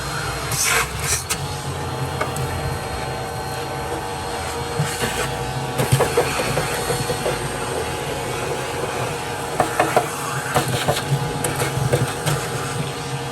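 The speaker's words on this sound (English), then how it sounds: "We're just gonna run the vacuum cleaner real quick" A vacuum cleaner drones steadily throughout with a constant whine, and brief clatters and knocks of ash and soot being sucked out of a Pit Boss pellet smoker over the hum.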